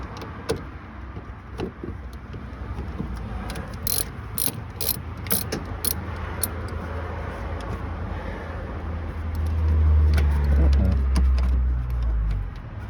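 Ratchet wrench loosening the battery hold-down on a 2010 Toyota 4Runner: rapid clicking pawl bursts close by, interspersed with metallic clinks and rattles, followed by a louder low rumbling stretch toward the end.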